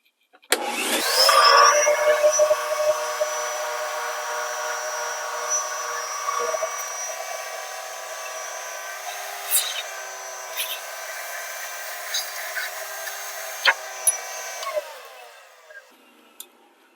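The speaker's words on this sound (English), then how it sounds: "you want to vacuum that out, and you especially want to make sure you vacuum that smaller hole out" A vacuum cleaner runs steadily for about fifteen seconds while cleaning out the drilled finger holes of a Storm Phaze V bowling ball, with a few sharp clicks and bumps over its whine.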